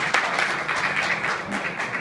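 Brief, even applause from a crowd of former classmates at a college reunion for JMIT, filling the whole moment with dense clapping and no talk.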